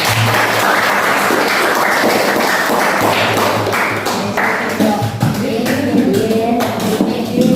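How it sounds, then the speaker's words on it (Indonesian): A class of students applauds group 1 before their presentation, with loud, close clapping and some thumps running throughout and voices emerging near the end. "Kita beri tepuk tangan untuk kelompok 1."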